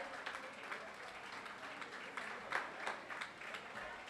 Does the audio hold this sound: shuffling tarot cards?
no